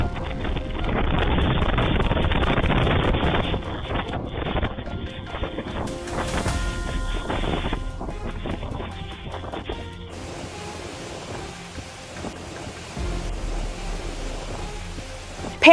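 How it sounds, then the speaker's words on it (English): An intense storm in Sakhon Nakhon, Thailand, sends wind and heavy rain roaring steadily over the microphone. The noise is rough and constant, with changing textures of gusts and pounding rain throughout. "intense winds and rain batter the area"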